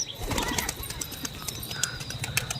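Pigeons coo on a house roof near dusk, soft low calls under steady background noise with scattered chirps and brief rustles.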